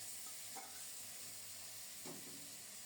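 Ridge gourd dropped into hot oil tempered with nigella seeds, green chili and turmeric, giving a steady close sizzle and frying hiss with a couple of brief stirring scrapes.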